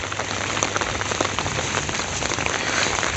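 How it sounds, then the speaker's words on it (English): Steady rain falling on a rainy day in Entebbe, Uganda, a dense continuous patter of drops hitting surfaces close by, with a few sharper individual splats standing out. "it's just a rainy day this side in Entebbe"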